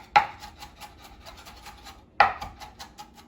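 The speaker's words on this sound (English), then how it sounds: "start by slicing the shallot as thin as we can" Kitchen knife slicing a shallot thinly on a cutting board, two crisp cuts about two seconds apart, close and fairly quiet, with no talk.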